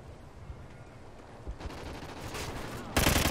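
Light machine gun fire in Call of Duty Ghosts with the Stalker perk, scattered shots at first building into a sustained rattling burst that grows louder at the end.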